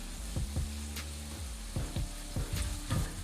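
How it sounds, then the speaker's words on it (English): Shrimp frying in a pan for Louisiana-style shrimp and grits, a steady close sizzle broken by several knocks and scrapes as the shrimp are tossed and stirred, with no talking. "You can go ahead and toss this shrimp around."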